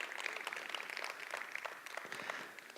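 An audience at an evening talks event applauds a sponsor, a faint, scattered patter of clapping that holds steady and then thins out toward the end.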